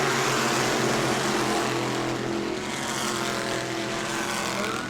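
Modified race cars in a 602 Mod feature at New Smyrna Speedway roar through a corner in single file, a dense, sustained engine drone that swells and eases slightly, with no voices.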